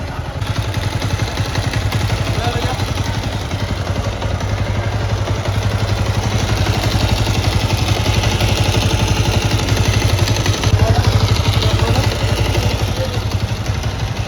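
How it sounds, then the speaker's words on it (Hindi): A Bajaj Avenger 220 motorcycle engine runs steadily close by after repair, a continuous mid-pitched idle with rapid mechanical clatter, holding even throughout with a brief rise near the end. "तो दोस्तों साउंड सुनिए इसका इंजन का।"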